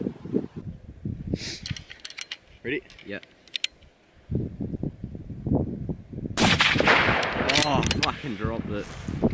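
Rifle shots ring out during goat culling in New Zealand hill country, several sharp cracks scattered among close, mumbled talk between shooters and handling noise.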